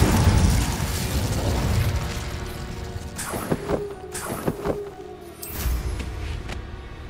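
Incendio fire spell cast in Hogwarts Legacy during a fight with a troll, heard as a rush of flame followed by several sharp magical bursts and pops with clicking mechanical ticks, moderately loud over a muffled background rumble.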